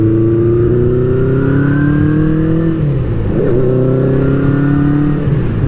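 A Honda CB550 Four motorcycle engine runs loud and close, its inline-four note rising steadily as it accelerates through the gears, with a brief dip at a shift before climbing again.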